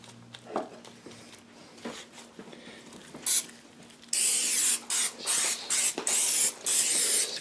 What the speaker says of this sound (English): Spray the edges so they brown.